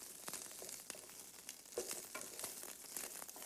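White onion and garlic fry in a pan with a steady, close, moderately quiet sizzle, crackling and popping unevenly, with occasional stirring scrapes.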